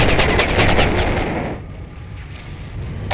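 Gunfire from a minigun and missiles in the video game Battlezone Combat Commander, a loud rapid barrage of shots and blasts that fades to a quieter rumble after about a second and a half.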